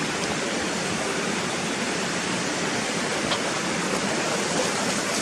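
A hillside stream pours steadily downhill near Gunnerside, a continuous broadband rush of flowing water, close and even throughout with no talking.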